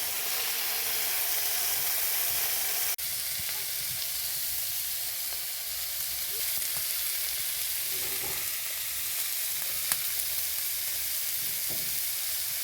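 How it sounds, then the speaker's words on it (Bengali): Steady, close sizzle of okra frying in a wok, with a constant crackling hiss throughout, broken by an occasional light clink or scrape; no talking. "কড়াইতে ভেন্ডি ভাজা বসিয়ে দিয়েছি"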